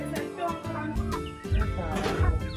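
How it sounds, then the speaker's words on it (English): Chickens cluck and squawk close by in a Jamaican yard, a busy run of overlapping bird calls over several seconds. "giving you a second look at the chicken"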